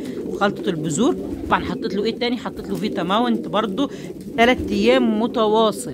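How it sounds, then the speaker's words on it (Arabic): Caged pigeons coo in repeated rolling calls close by, overlapping one another, while someone talks steadily over them. "فبسم الله ما شاء الله الحمام اهو ابتدى يبشر وابتدى يرجع تاني"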